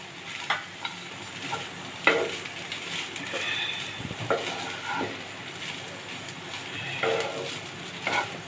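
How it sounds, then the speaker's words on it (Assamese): Rice frying in a pan with egg, paneer, bay leaf, cashews, raisins, cardamom and cinnamon makes a continuous crackling sizzle, with occasional stirring scrapes and soft knocks close by. "ভাতখিনি অকণমান ফ্ৰাই কৰি ল'লোঁ।"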